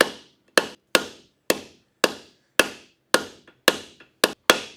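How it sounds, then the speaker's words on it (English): Hot steel hammered by hand for forge welding a knife billet: about ten loud ringing blows, close and evenly spaced, each fading quickly, with no other sound between strikes. "you don't need to see me just hitting a piece of steel forever"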